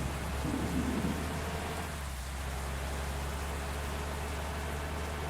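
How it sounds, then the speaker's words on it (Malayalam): Steady rain pours down in Bus Simulator Indonesia as the bus pulls away, a dense, even hiss with a low rumble of thunder underneath, filling the scene without any voices. "വണ്ടി എടുത്തപ്പോൾ തന്നെ മഴയാണല്ലോ"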